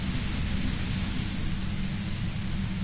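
Steady broadband white-noise static in the Disco Elysium video game, a constant hiss with a heavier low rumble underneath, holding loud and even throughout with no other sounds.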